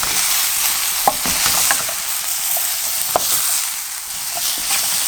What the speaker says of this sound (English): Gonna stir this very well so that nothing gets burnt.